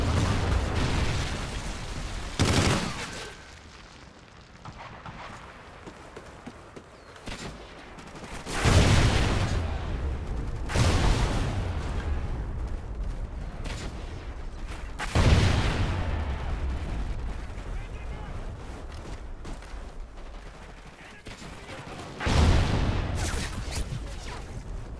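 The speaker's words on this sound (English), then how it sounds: "Friendly Trinity rocket inbound." Explosions and gunfire in Call of Duty Ghosts, a Domination match where a Trinity rocket killstreak is called in: repeated loud, deep blasts about every six to seven seconds, each rolling off amid a steady rumble of battle noise.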